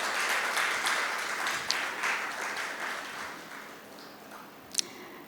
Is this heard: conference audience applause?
yes